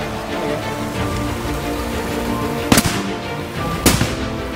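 Two shotgun shots fired at driven pheasants at Dyfi Falls in Wales, each a sharp loud crack about a second apart, over a steady background of wind and rushing outdoor noise.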